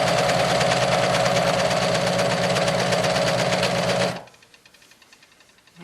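Sewing machine running steadily as it stitches the seams of a homemade tank top, a loud continuous whirring drone that stops abruptly after about four seconds, leaving near silence.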